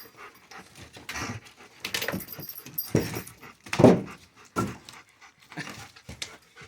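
A dog pants in quick, uneven bursts with a few whimpering breaths, close by and outdoors during firewood unloading, with no voices.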